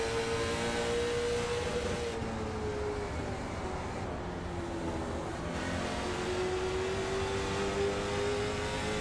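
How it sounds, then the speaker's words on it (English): A late model stock car engine in the iRacing sim at Stafford Motor Speedway holds a smooth, steady throttle, a continuous close drone that rises and falls slightly in pitch throughout. "It just sounds super smooth on that throttle."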